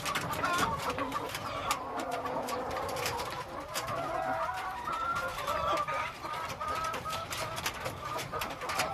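Many chickens at a poultry farm in Bantayan fill the air with dense, continuous overlapping clucks and murmurs, close and steady throughout.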